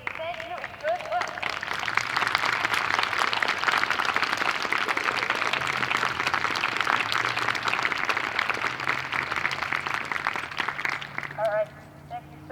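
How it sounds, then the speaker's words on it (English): Sustained audience applause for graduating seniors standing at a college wind ensemble spring concert, dense steady clapping from a large crowd filling about eleven seconds before tapering off. "so we can give you one big round of applause to say thank you and good luck"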